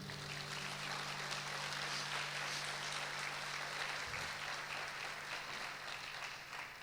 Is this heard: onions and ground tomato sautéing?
no